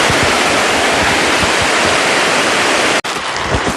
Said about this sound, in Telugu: వాటర్ అయితే ఫ్లో అయితే చూడండి ఫ్రెండ్ ఎంత బ్యూటిఫుల్గా వస్తున్నాయో కొండల మధ్యలో నుంచి.